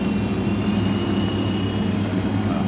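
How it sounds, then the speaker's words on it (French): A helicopter lifts off and flies, giving a steady, continuous whirring drone with a thin high whine layered on top, heard close and loud throughout. "on allume son hélicoptère et on se met toujours derrière"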